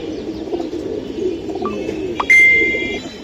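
Silver pigeons at a busy pigeon market give low, murmuring coos, with a few short chirps and a sharp ringing tone near the end.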